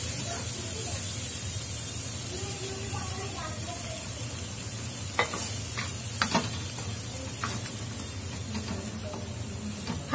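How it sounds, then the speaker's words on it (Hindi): Broken wheat dalia frying with mixed spices in a pan, a continuous bright sizzling hiss with occasional scraping stirs, loud and close throughout. "दलिया हमारा फ्राई हो रहा है"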